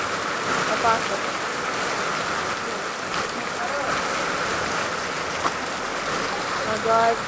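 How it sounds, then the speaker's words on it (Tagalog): Heavy rain pouring down steadily in a dense, loud, continuous wash. "grabe lakas ng ulan."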